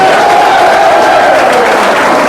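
An audience at a short-film award function claps in a loud, dense, continuous burst, close and full, with a faint murmur of crowd noise underneath.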